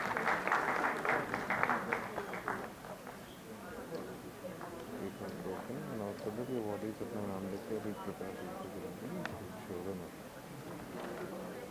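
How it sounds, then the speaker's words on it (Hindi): Audience clapping at a Swachh Bharat cleanliness award ceremony in Chandigarh, a dense burst of applause for the first few seconds that fades under a busy hall of voices and crowd murmur. "मेरा नम्र निवेदन आप सभी से है कि कृपया तालियों की गूंज बनाए रखें।"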